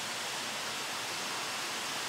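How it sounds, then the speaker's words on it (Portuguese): A waterfall drops beside a rock cave with a tall stone wall, its steady broadband roar of falling water continuous and fairly loud throughout, with no voices over it. "e de fundo a queda da água"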